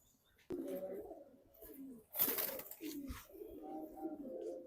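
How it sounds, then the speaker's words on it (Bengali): Pigeons coo softly in a pigeon loft in Hazaribagh, Dhaka, with low, repeated throaty calls and a brief burst of fluttering or rustling near the middle. "এই যে আরেকটি কবুতর কালারিং কবুতর দেখাইতেছে ভাই গেন্দা কবুতর"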